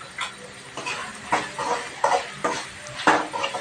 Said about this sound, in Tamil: இப்போது தேங்காய் பருப்பு போட்டு நல்லா கிளறி விட்டுக்கலாம்